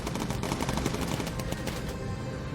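Rapid bursts of aircraft cannon fire from a bomber in the video game Bomber Crew rattle in a dense, loud fusillade lasting a couple of seconds, with no speech over it.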